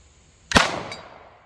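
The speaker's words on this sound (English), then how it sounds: "Definitely a hang fire there." A single sharp, loud gunshot from a Glock 17 Gen 5 firing a 1944 German 9mm Berdan-primed round with a hang fire, the crack trailing into a decaying echo with a faint second tick just after.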